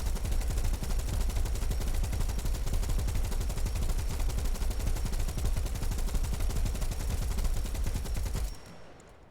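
Aircraft cannons and machine guns in War Thunder fire in one long, unbroken, extremely rapid burst, loud and dense for about eight and a half seconds before cutting off abruptly, with no talking.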